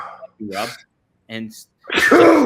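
A single close, sharp sneeze bursts out near the end, following brief stretches of conversational talk, during a podcast conversation.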